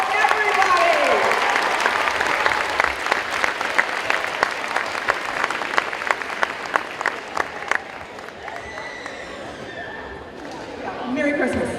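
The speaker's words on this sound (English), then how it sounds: "A big round of applause for everybody." A gym crowd at a school pep rally claps in a sustained, dense round of applause that thins and fades out near the end, with voices and scattered cheers mixed in.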